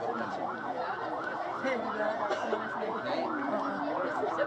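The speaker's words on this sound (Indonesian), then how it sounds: "Nah ini dia ambulannya baru masuk" A wailing ambulance siren sweeps up and down repeatedly, loud and steady, with people talking over it.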